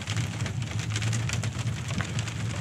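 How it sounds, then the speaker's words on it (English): Hail falling on a truck on a Colorado mountain trip: a dense, steady patter of pellets striking the vehicle close by, loud and continuous, with no one talking. "It's a little bit nicer hail than yesterday"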